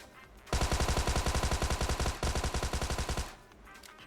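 Rapid automatic gunfire in a video game, two long sustained bursts of evenly spaced shots, loud and close, separated by a brief break, with quiet background before and after.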